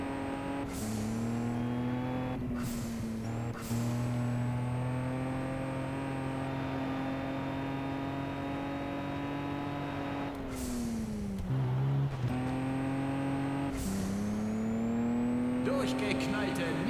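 Race cars in Juiced 2 roar past with sustained engine drone, steady revving and shifting gears, with repeated sharp whooshing bursts as nitro kicks in, loud and continuous throughout.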